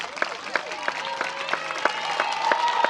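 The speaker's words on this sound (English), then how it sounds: "Let's give a round of applause to our teachers and professional assistants, our aides." Applause for teachers and aides at an elementary school moving-up ceremony, a crowd clapping steadily for about three seconds with sharp individual claps standing out over the general patter.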